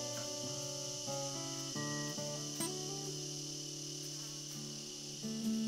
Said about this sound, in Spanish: Oigo mosquitos.